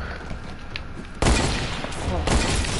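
Video game gunfire during a headshot, a sudden loud barrage of shots bursting in after a quieter stretch and continuing densely to the end.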